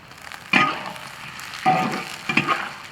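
Scallion and ginger drop into a pan of braised pork, setting off three distinct bursts of sizzling that flare up and fade back to a quiet frying hiss.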